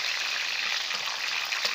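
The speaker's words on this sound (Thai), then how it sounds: "ตั้งกระทะให้ร้อนเลยนะฮะใส่น้ำมันนำใบกะเพรามาทอดเลยนะฮะให้กรอบเลยนะครับ" Holy basil leaves fry in hot oil in a pan with a steady, close crackling sizzle that stays constant throughout.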